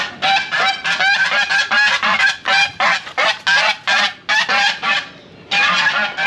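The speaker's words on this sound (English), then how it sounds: "That is definitely a goose." A goose in Managua, Nicaragua honks loudly and close by, a rapid run of harsh, nasal honks in quick bursts with only brief pauses between them.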